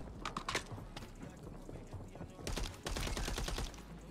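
Gunfire erupts in a video game, with rapid bursts of shots and clattering impacts, a quieter volley early and a louder sustained barrage in the second half, fairly close and without clear talk.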